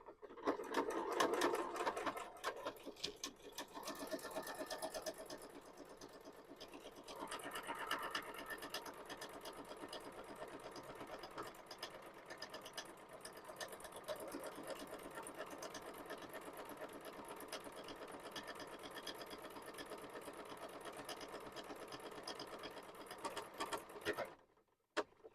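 A domestic sewing machine runs steadily through a one-step buttonhole, its needle chattering in a fast even rhythm close by for about twenty-four seconds before stopping abruptly.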